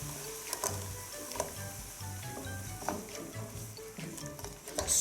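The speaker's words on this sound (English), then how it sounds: "White wine. And start deglazing this pan." White wine hitting a hot pan to deglaze it for chicken with saffron cream sauce, a steady close sizzle and hiss with light scraping and stirring clinks throughout, no voices.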